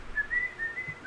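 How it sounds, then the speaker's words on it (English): A person whistles a short, soft tune in a series of clear sustained notes, close and fairly quiet, with no talking over it. "I'm just whistling out."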